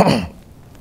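A short, rough throat clearing at the start, then near silence with a faint hiss at the end.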